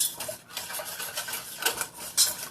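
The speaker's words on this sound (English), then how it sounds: "Stir in the milk." A spoon scrapes and stirs buttermilk sheet cake icing in a pan with a few quick, close rubbing strokes against the metal bottom where the sugar sticks.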